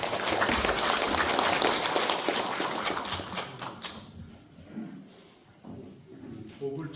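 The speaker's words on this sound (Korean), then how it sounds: "큰 박수로 청해 주시기 바랍니다." Audience applause welcoming a professor to give commentary at a Korean Buddhist academic forum, loud dense clapping for about four seconds that tapers off into scattered claps and room noise.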